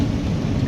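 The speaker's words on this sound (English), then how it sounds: "So it's raining today." Rain falls as a brief, steady hiss of fairly loud noise with a soft low rumble beneath, and no voices.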